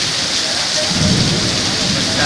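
Heavy rain pours down in a thunderstorm with strong wind in TTDI, a loud, dense roar of rainfall over a low rumble of thunder, continuous and close.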